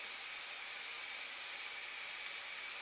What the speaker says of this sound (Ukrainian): Потерту на дрібній терці та продовжуємо смажити ще 2-3 хвилини